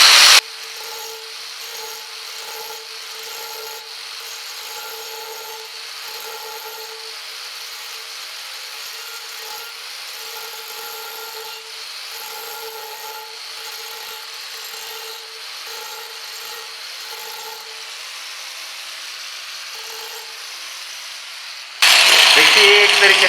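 A grinder smooths and levels a stone frame, a steady, loud grinding whine with rasping texture that runs continuously, then ends in a sharper, louder burst of noise.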